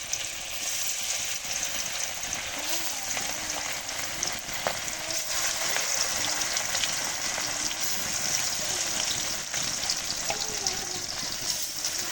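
Fish rubbed with salt and turmeric sizzles steadily in hot oil, a continuous close crackle and spatter with occasional louder pops and faint stirring, no voices over it.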